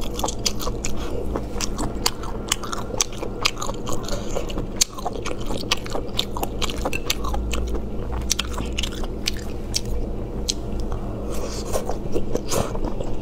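Close, crunchy biting and chewing of spicy food coated in chili powder, with dense rapid crackles and scrapes running continuously and loudly without talk.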